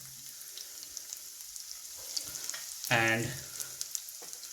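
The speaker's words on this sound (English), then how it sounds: "I am adding garlic," Finely chopped garlic sizzles in hot oil in a pan for Chicken 65, a soft steady fry with a brief louder hiss as it hits the pan and a quiet spoken word.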